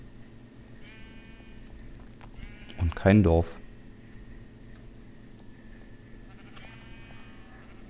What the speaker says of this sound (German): Hier gibt es Schafe ohne Ende.